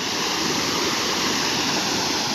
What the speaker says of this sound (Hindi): भाई ये देखो पूरा झरना यहाँ का पूरा फूल हो गया है।